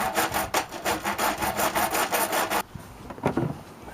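A piece of PVC trimmed by hand with a saw, steady rhythmic back-and-forth strokes close up for over two seconds, then quieter scraping and a few light knocks.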